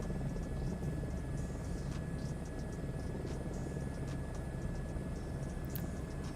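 A video game helicopter passes by, a low, steady rotor rumble and drone that stays fairly faint and even throughout, with no voices over it.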